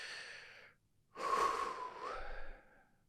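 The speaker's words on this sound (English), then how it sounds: "Nice big deep breath." A deep, slow breath is drawn in and released near the microphone, a soft airy inhale followed after a pause by a longer, louder breathy exhale with a faint whistling tone.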